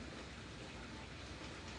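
Steady rain falls outside during home baking of old-fashioned tea cakes, a dense, even hiss that stays at one level throughout.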